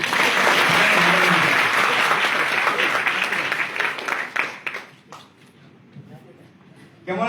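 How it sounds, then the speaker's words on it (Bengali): Loud, dense applause from an audience at a devotional satsang gathering, sustained for several seconds before thinning out into scattered claps and fading, then a brief burst near the end. "আমাদের জন্য জোরে হাততালি দিয়ে দেব"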